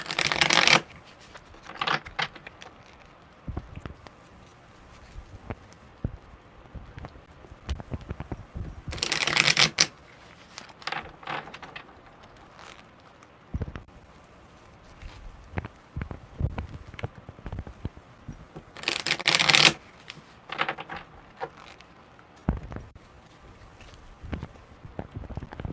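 A deck of tarot cards is riffle-shuffled close up, giving sharp fluttering bursts at regular intervals, with softer rustling and handling of the cards in between.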